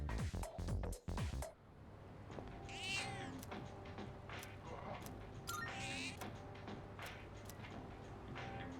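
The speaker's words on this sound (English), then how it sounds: "there's the cat. Need to go feed the cat." A cat in the video game Persona 3 Reload gives a couple of short, faint meows over quiet game ambience, after a brief burst of clicking menu sounds at the start.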